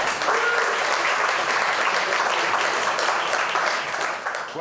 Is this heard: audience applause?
yes